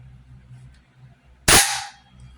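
A Century Arms BFT AK47 bolt is released and slams home with a single sharp, loud metallic clack that rings briefly, set against a quiet, low background hum.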